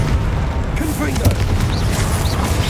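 Booming spell blasts of Confringo in Hogwarts Legacy, heavy explosive thuds layered with combat effects and a speaking voice over continuous battle noise.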